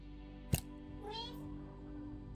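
A cat in the video game Lost Records: Bloom & Rage lets out a single soft meow between two sharp clicks, quiet over a steady ambient hum.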